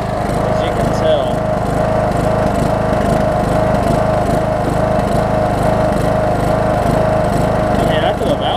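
Troy-Bilt Bronco riding mower with a Briggs & Stratton engine running after a valve adjustment, slightly starved for fuel and burning off smoke; a loud, close, steady engine drone with a constant hum, with a voice talking over it.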